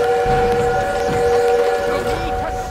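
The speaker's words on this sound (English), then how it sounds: "We need to stop that train!" A train in the Call of Duty WW2 video game rumbles under a steady whistle or siren-like tone holding several sustained pitches, with loud battle ambience and muffled voices throughout.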